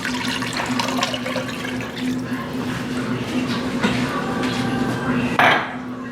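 Beef broth is poured into a pot of keto queso taco soup, a continuous watery splashing amid light clinks of cookware, with a sharper clatter near the end.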